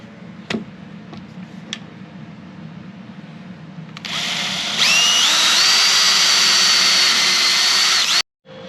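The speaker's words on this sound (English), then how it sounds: "allow me to get a pilot hole so I can drill the regular full-size holes" A few light clicks, then a power drill whirs up and bores a pilot hole in a Strat-style guitar for several seconds, its pitch rising as it bites in before stopping abruptly.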